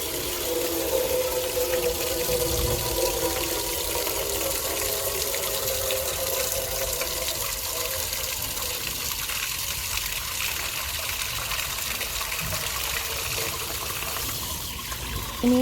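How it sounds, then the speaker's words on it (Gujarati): Water runs from a tap into a dhokla steamer pot, a steady close gush and trickle that holds at the same level throughout, ending in a brief clatter. "તો હવે આપણે ઢોકળિયામાં પાણી ભરીશું."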